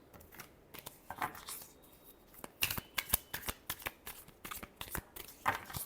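Tarot cards are shuffled by hand during a reading: repeated quick riffling bursts and crisp flicks, close and fairly loud, coming in an uneven rhythm with no voice over them.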